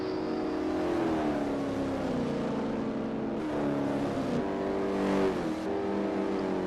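Race cars lap a circuit in a racing video game, engines droning loudly and shifting pitch as cars accelerate, lift and pass in lapped traffic, with a continuous close engine roar and no talk.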